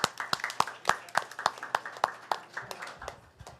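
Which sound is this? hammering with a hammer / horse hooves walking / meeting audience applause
meeting audience applause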